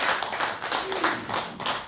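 Loud, close applause from a Korean church congregation during a Sunday testimony service, a thick continuous wash of clapping swelling and easing in waves.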